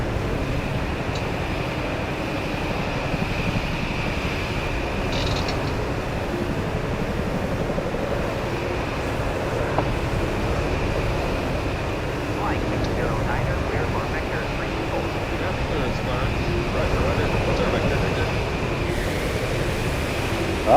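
Helicopter and jet engines in a flight simulator game make a loud, constant drone with a steady whine over it. A voice talks throughout.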